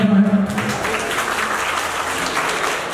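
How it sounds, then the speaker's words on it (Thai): Crowd applause at a Thai fan meeting for the drama cast, directors and producers, a steady dense wash of clapping after a brief tonal sound at the start, fairly loud and close throughout. "ขอเสียงปรบมือ"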